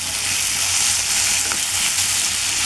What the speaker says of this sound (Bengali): আমি এরকম ভাজা ভাজা করে নিচ্ছি।